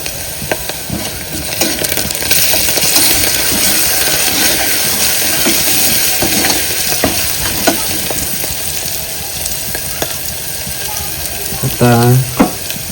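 Ginger garlic paste sizzles and crackles steadily in hot oil while being fried and stirred for a village-style mutton curry, a dense continuous frying hiss that stays loud throughout with no talking.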